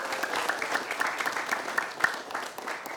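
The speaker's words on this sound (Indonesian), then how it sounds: "tepuk tangan dulu untuk Bu Ketua" Audience applause for the chairwoman at a lively community women's gathering, moderate scattered clapping with distinct individual claps standing out, steady for about three seconds.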